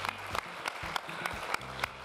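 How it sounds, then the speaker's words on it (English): Applause from guests at the BRICS Summit 2023 welcome gala dinner at Gallagher Estate, Johannesburg, a steady patter of many hands with a few sharper claps standing out at regular moments, no voices. "let's give them all a big round of applause"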